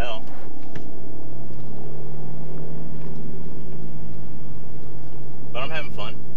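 Mercedes GLK 350 4MATIC V6 engine accelerating, heard from inside the cabin as a steady low drone under a voice, with a brief rising whine near the end.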